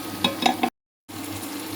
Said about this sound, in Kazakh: Мінекей, етін де қуырып алдық.